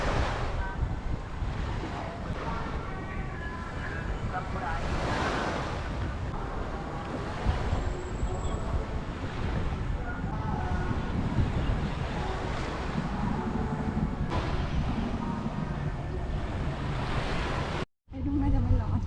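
Continuous broadband roar of sea waves breaking on Pattaya beach in Thailand, steady and loud with wind buffeting the microphone, a brief dropout near the end.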